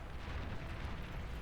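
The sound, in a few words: plasma cannon firing in Beyond All Reason video game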